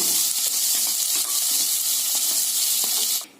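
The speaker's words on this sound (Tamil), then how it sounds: "இதையெல்லாம் நல்லா எண்ணெயில வதக்கிக்கலாங்க." Onion and other ingredients for ivy gourd curry sauté in oil in a pressure pan, giving a loud, dense, continuous hiss with light stirring taps that cuts off abruptly at the end.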